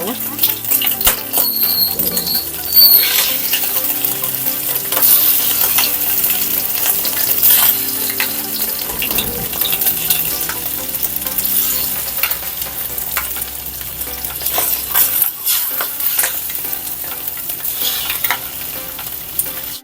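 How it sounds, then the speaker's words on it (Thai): Tofu fries in hot oil over medium heat, giving a loud, continuous sizzle and crackle with scattered sharp pops and occasional clinks of a utensil stirring, close by, with a voice talking at times. "มื่อน้ำมันร้อนแล้วใส่เต้าหู้ลงไปนะคะ"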